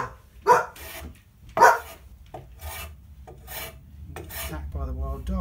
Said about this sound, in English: attacked by the wild dog.